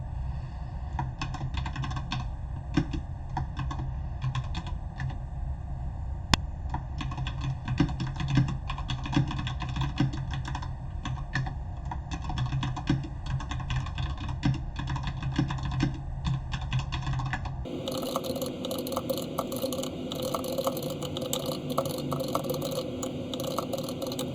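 Typing on a computer keyboard while entering a cleaning checklist in Google Sheets: fast, continuous clicking keystrokes, close and steady, with the sound shifting to a different tone near the end.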